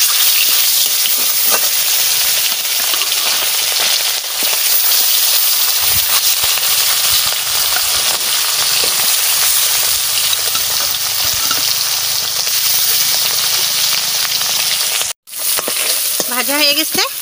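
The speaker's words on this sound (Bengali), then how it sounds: "এরকম এরকম লাল লাল করে ভেজে নিচ্ছি।" Food fries in hot oil until reddish for a palak shak dish, a loud continuous sizzle and hiss close by with occasional stirring clatter, broken by a brief gap near the end.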